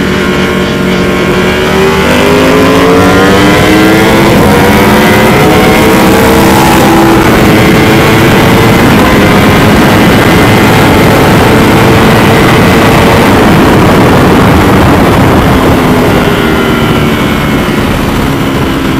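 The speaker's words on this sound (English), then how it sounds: "This thing sounds unreal. 1300cc V-twin motor with a tiny exhaust like that." KTM Super Duke 1300cc V-twin motorcycle with a small exhaust revving on the street, a loud continuous engine roar with rising and falling pitch sweeps, close by, no talking.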